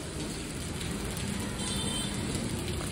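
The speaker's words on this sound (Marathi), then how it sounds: "पाऊस खूप जोरात चाललाय" Heavy rain pours down in a dense, steady hiss and patter, loud and continuous from start to finish with no voices.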